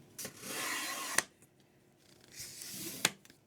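Cardstock trimmed on a paper trimmer: two long sliding blade strokes, each finishing with a crisp snap as the cut ends, close and fairly quiet with a brief pause between.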